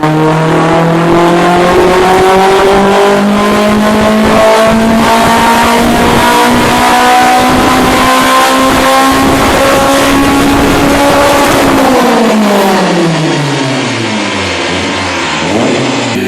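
A loud, high-revving Honda F20C four-cylinder engine, with an 8,900 RPM redline, climbs steadily in pitch for several seconds, then drops sharply as the revs fall away.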